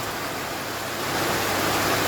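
Heavy rain pouring down in a dense, steady roar of broadband hiss that grows slightly louder partway through, with no one talking.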